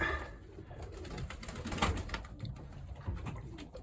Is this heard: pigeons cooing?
yes